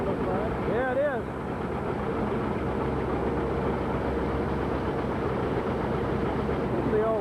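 A threshing machine runs at a 1985 farm demonstration, belts and pulleys driving it near a steam engine, giving a steady close mechanical rumble and clatter throughout, with a brief voice-like chirp early on.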